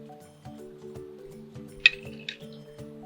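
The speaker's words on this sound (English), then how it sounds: "Give it a little stir." A spoon stirs a Pink Whitney Barbie punch cocktail in a glass, giving a couple of light, close clinks against the rim over soft background music.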